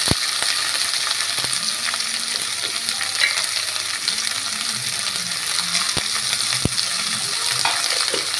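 Sliced onions with a pinch of salt sauté in a pan, making a dense steady sizzle with a few sharp clinks of a spoon against metal, close and fairly loud.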